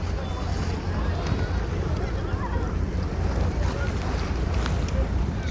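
Aegean Sea waves wash onto a rocky shore at Izmir on an overcast, rainy day, a steady roar mixed with heavy wind buffeting the microphone, with no clear separate breakers.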